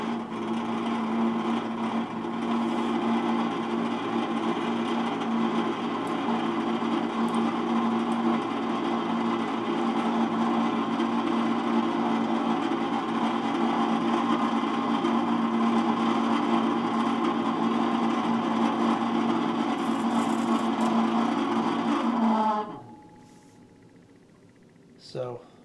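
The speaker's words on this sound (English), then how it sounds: "Fan motor needs some servicing." Fan motor of a vintage Toastmaster Model 9B1 electric heater in need of servicing runs with a steady, loud whirring hum and faint rattle for about 22 seconds, then cuts off and winds down into quiet.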